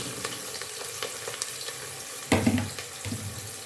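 Chopped onions sizzling in hot cooking oil for moong dal, a steady close crackle that swells into a louder burst partway through before settling back.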